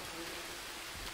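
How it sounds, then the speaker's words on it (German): Rain falls steadily in the jungle survival game Green Hell, an even, soft hiss of downpour with no break, fairly faint and with no one talking. "jetzt regnet's gerade"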